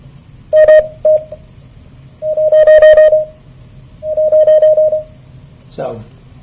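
Morse code sidetone from a PICadillo keyer, heard alone as a steady pure beep keyed in three bursts of dits and dahs at an even pace, followed by a brief rustling noise at the end.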